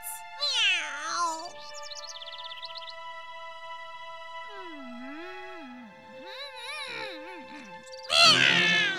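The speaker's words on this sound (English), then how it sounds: "Meow." Cartoon cat meowing in a high, bending voice with stretched harmonic calls, loud and close over a music bed, ending in a noisy burst of sound effects.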